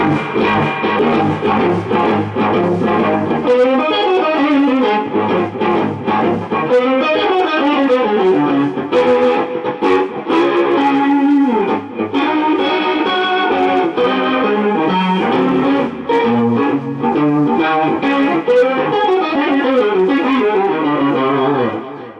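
Heavily distorted electric guitar through a distortion pedal and DLS RotoSIM, playing a continuous riff with chords and bends, loud and close, no excess noise, no voices.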